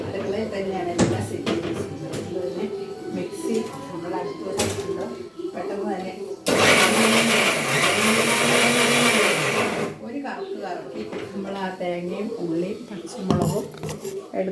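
A kitchen mixer grinder runs loudly for a few seconds in the middle, set beside the cook, with a person talking before and after it and some clatter of utensils.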